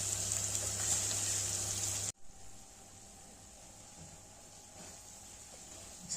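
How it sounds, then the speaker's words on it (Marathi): Masala sautéing in plenty of oil over a low gas flame for a Vidarbha-style shev bhaji gives a steady, close sizzle. The sizzle breaks off abruptly after about two seconds, leaving only a faint room hush. "तेल सुटेपर्यंत मसाला असा परतून घ्यायचा"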